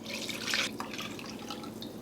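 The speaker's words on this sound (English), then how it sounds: "There's some fat in here that we're gonna pour in." Beef fat rendered from short ribs pours into a pan, a steady close liquid trickle and splash with a brief louder gush near the start, alone without talk.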